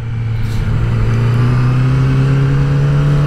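A Yamaha R6 sport motorcycle engine holds a steady, loud rev with a strong low drone that rises slightly in pitch, close by and alone.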